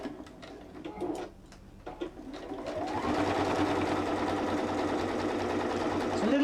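A sewing machine runs steadily stitching a fabric sunflower pouch, at first in short stop-start bursts, then a longer continuous whirring run close by.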